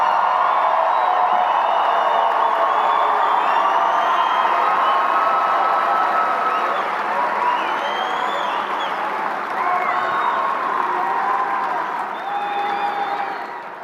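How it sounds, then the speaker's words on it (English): A high school graduation crowd cheers and applauds for the class of 2025, loud sustained clapping mixed with whoops and shouts that stays strong throughout. "let's give another round of applause to the class of"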